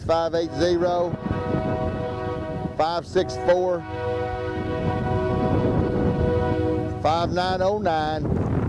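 A long, sustained train horn blares over a low rumbling train as someone talks over the noise.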